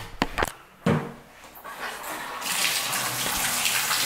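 Water gushes steadily from a bathroom faucet in an apartment unit, starting after a few brief knocks and clicks and running loud and close with strong pressure.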